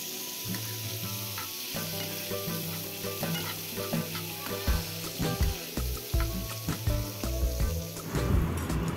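Onions sizzle and fry in a hot pan for dhaba-style white paneer gravy, a steady loud crackle with repeated clinks and scrapes of a stirring spoon throughout, no voices.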